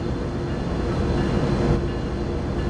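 In Train Sim World 3, a freight train descends Cajon Pass under dynamic braking, giving a loud, steady, dense roar and rumble of locomotive and wagons with no talking.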